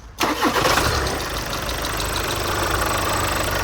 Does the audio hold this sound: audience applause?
no